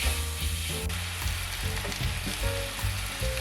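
Beef stir-fried over high heat in a hot pan, a dense close sizzle overlaid with rapid clatters and scrapes of stirring, loud and busy for a few seconds with no talk.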